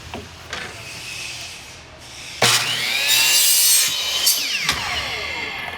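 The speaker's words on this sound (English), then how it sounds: "And we're going to cut that PVC pipe at that length." A 1-inch PVC pipe is cut with a hand saw, giving several raspy back-and-forth strokes, close and fairly loud, with a brief pause between bursts and no talking.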